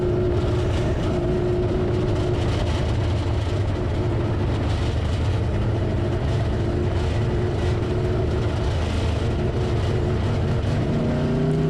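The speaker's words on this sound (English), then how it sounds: "try to get the RPMs up, see if I could clear it out." An A-mod race car engine runs at high RPM, a loud, constant, rough drone with a slight rise and fall in pitch throughout.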